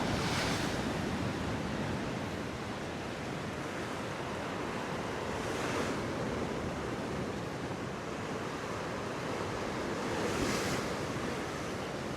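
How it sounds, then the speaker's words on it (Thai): Strong wind and surf at a seaside cave temple in Hua Hin: a continuous loud roar of wind buffeting the microphone, with crashing waves surging roughly every five seconds and no voices. "ลมค่อนข้างแรงวันนี้"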